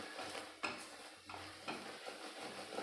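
Ghee stirred into a thickened jaggery and ginger mixture in a pan, soft scraping strokes of a spoon at a slow, uneven pace over a faint sizzle, quiet and close.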